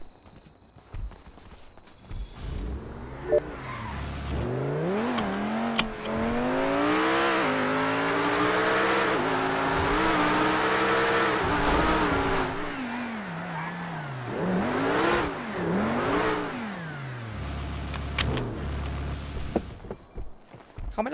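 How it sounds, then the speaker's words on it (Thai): Loud car engine in the video game GTA V, revving up and down in long rising and falling sweeps, sustained and close for most of the stretch with brief quieter moments. "เขาไม่รำคาญเสียงรถกันบ้างไงวะ"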